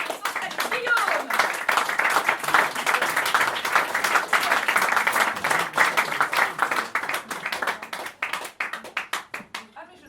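Dense applause from a crowd, loud and sustained, gradually thinning toward the end into scattered claps, with voices faintly mixed in.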